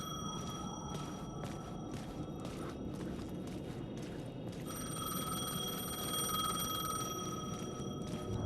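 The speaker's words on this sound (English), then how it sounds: "The payphone was ringing." A payphone rings repeatedly in the video game Alan Wake 2, a steady electronic trill pulsing in bursts over a low ambient rumble, fairly close and alone with no talk.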